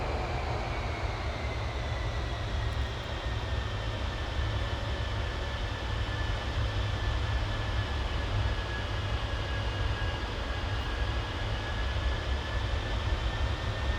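Avro Vulcan B.2 jet engines throttled back in flight, heard as a dense, steady roar with a thin whine that slowly drops in pitch, continuous and unbroken throughout.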